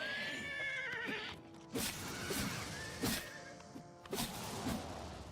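A horse whinnies with a rising, drawn-out call in a video game, followed by snorts and a few hoof thuds against a steady game-like background.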